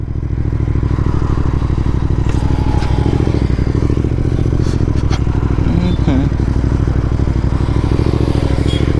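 A sport motorcycle, a Ducati Panigale or BMW S1000RR, on a Sunday group ride: a loud, close, continuous engine pulse with steady rapid firing beats and wind noise, with someone speaking over it.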